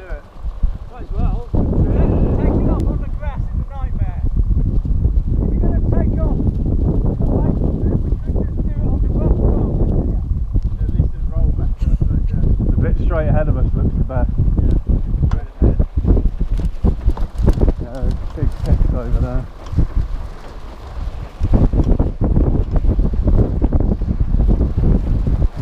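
Strong headwind buffets the microphone outdoors at the first flight of a human-powered aircraft, a loud continuous roar with gusty bursts, while people talk throughout.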